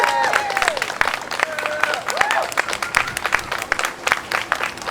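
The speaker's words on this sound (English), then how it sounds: "I just want you guys to give a big round of applause for Mr. Charlie Kratovil, our next mayor" An outdoor crowd at a New Brunswick mayoral campaign event for a candidate announcing plans to raise wages breaks into moderate applause with scattered cheers and whistles, irregular claps layered throughout.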